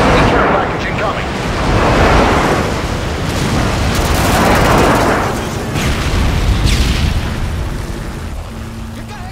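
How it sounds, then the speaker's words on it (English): Airstrike explosions in Modern Warfare 2 roll through as a series of loud, rumbling booms in quick succession, with battle noise and voices underneath throughout. "Airstrike inbound."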